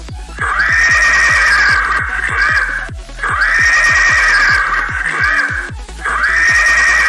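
A horse gives three loud, shrill whinnies in succession, each a long quavering neigh with brief gaps between, close up and alone.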